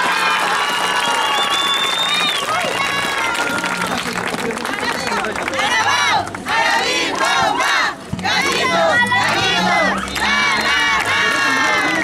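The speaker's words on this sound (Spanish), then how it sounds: "Entonces vamos a darle el aplauso a Gallitos de Oro." A loud crowd at a youth pony-category football final cheers, shouts and claps for the Gallitos de Oro team, with excited children's voices overlapping throughout.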